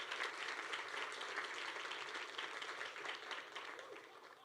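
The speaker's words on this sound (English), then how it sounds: "Let's give them a round of applause" A round of applause fills a senior awards banquet hall, many hands clapping in a continuous, fairly quiet wash with no break.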